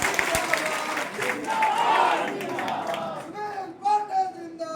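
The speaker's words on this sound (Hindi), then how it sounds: "ताली बजाइए आदरणीय सुनील पांडे।" An audience at a political meeting applauds for Sunil Pandey, a short burst of clapping and crowd noise of moderate loudness, with a voice speaking over it toward the end.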